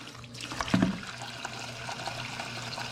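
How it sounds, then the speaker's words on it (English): Water pours steadily into a pot of washed rice, a soft, continuous trickle with a slight swell near the start, close by and fairly quiet, with no talking. "Your first digit, you're gonna measure water up to your first digit."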